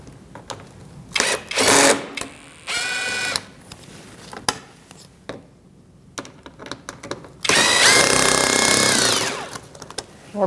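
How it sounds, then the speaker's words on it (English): A power tool with a 7mm socket backs out bolts behind the front bumper of a 2016-2019 Chevrolet Cruze 1.4L, whirring in several loud, close bursts of varying length separated by quieter clicks and handling noise. "We're going to remove these bolts on this side with a 7mm socket."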